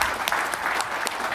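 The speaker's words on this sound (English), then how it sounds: "Let's welcome Richard with a round of applause." Steady audience applause fills a live main-stage session at an industry event, dense and even throughout the short stretch with no voices over it.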